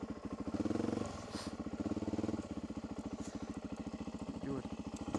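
Suzuki DRZ400 motorcycle engine running steadily in fine weather as the bike is turned around, its rhythmic thumping pulse rising and easing slightly, with a voice talking over it.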